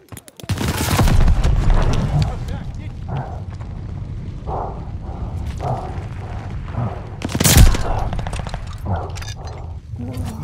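Mortar barrage explosions in the video game Call of Duty Vanguard, a loud rumbling series of booms and blasts mixed with gunfire, with voices speaking over the chaos.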